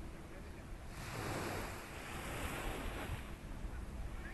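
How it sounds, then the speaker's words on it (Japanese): Gentle surf washing ashore at Sunset Beach in Chatan, Okinawa, on a calm, windless morning; a soft continuous wash of waves swells slightly in the middle, with light wind rumble on the microphone. "波の音が静かで"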